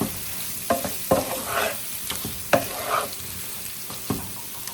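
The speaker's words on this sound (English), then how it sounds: "Kind of stir them around because we want the duck fat to get all over all of the sides of the potatoes." Potatoes fry in hot duck fat in a pan while being stirred, a steady bright sizzle broken by repeated close scraping strokes and clatters of the utensil, no voices.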